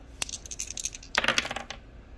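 Two dice tumble and clatter on a hard surface for a shut the box game, a few light clicks followed by a brief rattling burst, faint and close with no talk.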